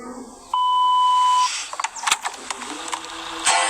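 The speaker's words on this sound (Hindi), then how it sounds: "बीप सुनाई देने के बाद अपना मैसेज छोड़ना मत भूलना।" An answering machine gives one clear, steady electronic beep lasting about a second, followed by faint clicks and handling noises.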